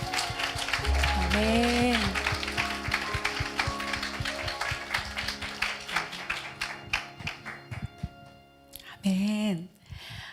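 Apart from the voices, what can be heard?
congregation applause in church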